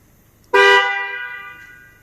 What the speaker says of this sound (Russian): всем рекомендую поставить волговские сигналы